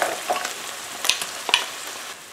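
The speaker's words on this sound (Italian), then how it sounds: "Aggiungo ora 180 g di funghi porcini, non è stagione, sto usando quelli surgelati." Frozen porcini mushrooms frying in a pan, a steady soft sizzle with a few light clinks and stirring scrapes, close and even, with no voices.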